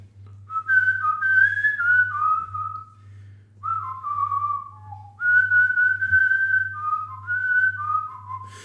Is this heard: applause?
no